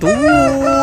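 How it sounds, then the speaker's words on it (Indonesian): A rooster crows once, loud and close, in a single drawn-out call that lasts just under a second. "ini ada ayam berkokok"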